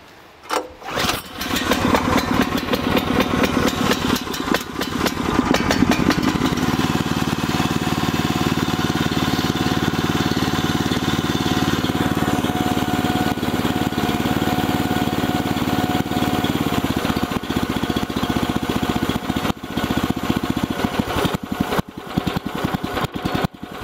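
A newly bought machine's engine cranks and fires on its first start after a hesitant sputter, then runs loud and close at a steady rough chug before fading into irregular pops near the end.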